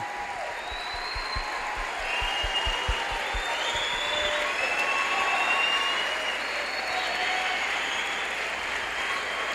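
An audience at a talk on the Big Bang and God breaks into steady applause that carries on for nearly ten seconds, with rhythmic low thumps near the start under the clapping.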